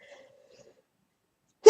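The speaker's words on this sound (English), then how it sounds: "I need to sneeze" A single sudden sneeze bursts out near and loud at the very end, after a faint hum, in a quiet room while a landscape painting is being made.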